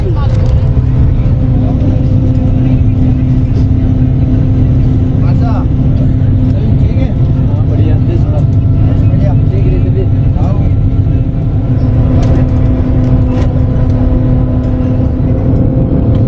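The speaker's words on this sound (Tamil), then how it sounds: "நம்ம வண்டி இப்போ தாங்க வேகம் எடுத்திருக்கு" A bus engine drones steadily and loudly as it picks up speed on a road out of Jaisalmer in the Rajasthan desert, with a constant rumble and wind noise throughout.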